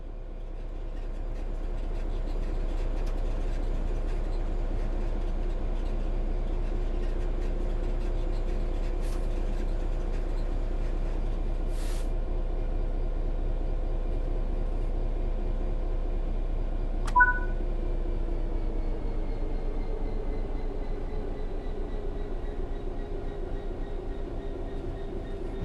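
A train coasting on level ground with the throttle at zero in Train Sim World 3, a steady low rumble of wheels and rails that runs the whole time, with a few brief faint electronic tones.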